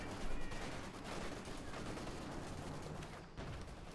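A Maxim machine gun fires in Company of Heroes 2, rapid faint bursts blending with other battlefield gunfire in a continuous distant clatter.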